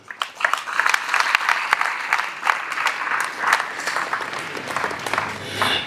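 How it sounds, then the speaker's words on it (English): A school audience gives a lively round of applause for a university vice chancellor's speech, many hands clapping together with some sharper individual claps standing out over the steady crowd sound. "Another round of applause, please."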